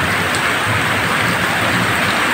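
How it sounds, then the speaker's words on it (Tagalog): Heavy rain drums and drips onto a roof, a dense, loud and continuous patter filling the whole stretch with no pauses and no voices. "Medyo malakas ang ulan."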